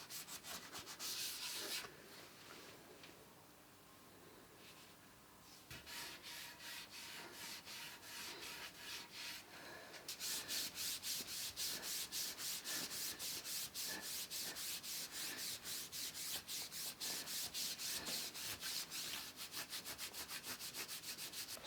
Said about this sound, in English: Now is the time where I want to start building super fine layer of slurry in with it and not leaving any excess